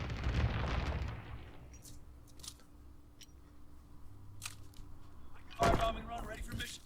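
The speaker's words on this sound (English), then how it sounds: "Low altitude bomber inbound. Dropping incendiary." Incendiary bomber scorestreak in Call of Duty WWII: a low rumble of the plane runs under speech, with scattered soft pops, before a sharp loud burst of fiery explosions near the end.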